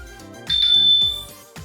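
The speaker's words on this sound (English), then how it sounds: "Select the bell icon in the bottom right to ring the bike bell." A Garmin Edge 1050 bike computer plays a bike-bell ring through its speaker, a single bright ding that lingers briefly over soft background music.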